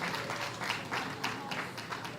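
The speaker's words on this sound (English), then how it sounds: "one big healthy round of applause for all our lot owners here at Malvern" Applause for the lot owners at a housing development handover ceremony in Malvern: a crowd claps steadily at a moderate distance, a dense patter that holds throughout, with faint voices underneath.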